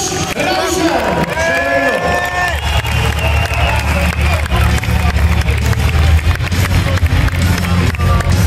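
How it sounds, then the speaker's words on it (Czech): Crowd at a boxing event applauds and cheers as a Czech boxer enters the ring, a dense, sustained roar of clapping and voices filling the venue, with a brief announcer voice at the start. "prosím o potlesk a o povzbuzení pro českého reprezentanta Luboš Naušer."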